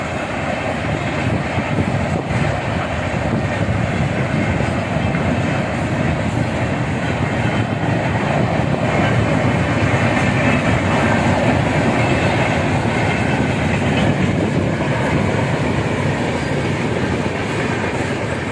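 The Farakka Express passenger train rumbles past loudly and continuously, a steady roar of wheels and carriages with rhythmic rail clatter running throughout.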